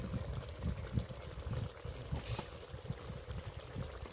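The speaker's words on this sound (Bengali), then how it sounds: "এক চামচ মতো ঘি দিয়ে দেব" Ghee poured from a spoon into a katla fish kalia curry: a soft, low liquid trickle with gentle rhythmic splashes, steady and fairly quiet throughout.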